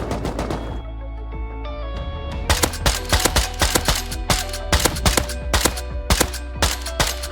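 Video game battle gunfire with a silenced SAR rifle among other weapons: rapid sharp cracks in quick bursts and single shots, loud and close, over a constant low droning rumble, with no talk.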